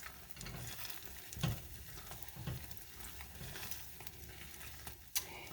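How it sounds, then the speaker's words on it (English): Candy mixture stirred in a pot, a faint hissing bubble with slow scraping strokes, a couple of soft thumps and a sharp clink near the end, close but quiet. "Continue stirring that."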